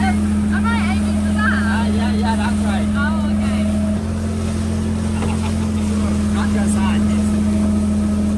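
A tour boat's engine drones loud and steady on the Mekong Delta, a constant low hum throughout, with people talking over it.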